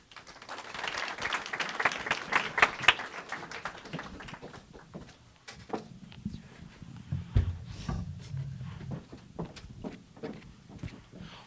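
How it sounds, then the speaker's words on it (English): Audience at a startup pitch night in Silicon Valley claps for the presenters, a burst of applause that thins after a few seconds into scattered claps and taps, with some shuffling and low murmur beneath. "let's give an additional round of applause to all of our presenters"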